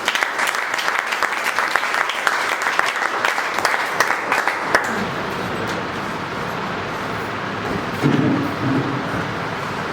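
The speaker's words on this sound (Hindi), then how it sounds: "आपकी ज़बरदस्त ताली" Loud, sustained audience applause at a Leaders Meet team-work event as a speaker is called up, dense clapping filling the first half and then easing into a steady, softer clatter with a brief swell near the end.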